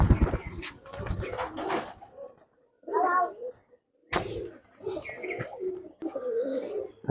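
Soft Girbaz pigeon coos come in short bursts, close by, between stretches of people talking.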